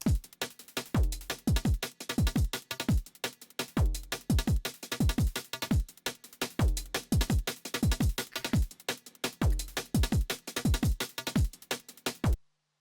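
Punchy layered IDM electronic drum kits from Infiltrator 2 in Ableton Live 12 play a steady, busy groove, deep kicks with crisp snares and hats, repeating in even bars for about twelve seconds with no talking.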